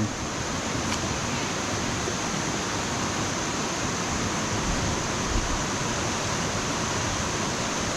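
Waterfall at Mae Tia in Op Luang National Park, Chiang Mai, a steady broadband rush of falling water that holds evenly loud and continuous throughout, with no clear voices over it.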